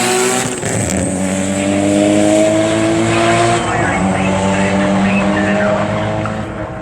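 A drag racing car roars loudly off the line at a Straightliners meet on Elvington Airfield in York, its engine a dense, sustained blare that holds steady while a commentator talks over it.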